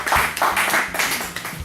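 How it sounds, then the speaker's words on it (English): A small group claps at a lifeguard and water safety presentation, giving short, close, uneven bursts of applause with no talking over them. "Let's have a round of applause for Mal."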